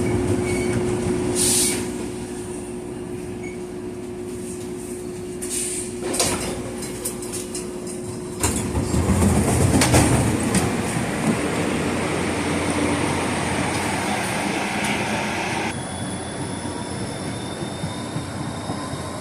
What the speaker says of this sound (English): This train is practically empty.